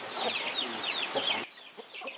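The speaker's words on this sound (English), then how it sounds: "These are large fighting chicken, maybe a race developed in Sulawesi." Large fighting chickens, a breed from Sulawesi, cluck and chatter nearby in a quick overlapping flurry of calls that drops to a few softer, sparser clucks near the end.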